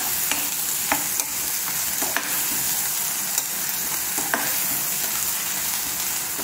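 Ginger garlic paste fries for chicken curry in a hot pan, a loud continuous sizzle broken by regular spatula scrapes and taps, close by with no voices.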